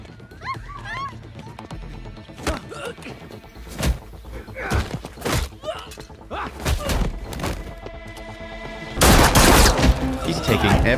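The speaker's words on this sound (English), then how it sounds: "How does he not hear the gunshots?" Several sharp gunshots crack out at intervals, mixed with shouting voices and game sounds, ending in a loud burst of fire.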